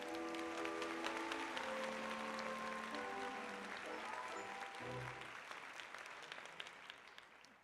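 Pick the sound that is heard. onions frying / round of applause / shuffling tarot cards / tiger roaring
round of applause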